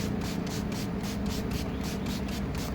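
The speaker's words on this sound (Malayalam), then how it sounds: "റോസ് വാട്ടർ എടുത്ത് ഇതിലങ്ങ് വെച്ച് ഒഴിച്ചു കൊടുത്താണ് കേട്ടോ ഇത് നമുക്കൊന്ന് സ്പ്രേ ചെയ്യാവേ" Rose water hisses from a hand spray bottle onto a face during a home facial clean-up, a run of quick, evenly spaced soft sprays close to the microphone.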